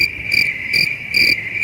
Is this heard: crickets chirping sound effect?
yes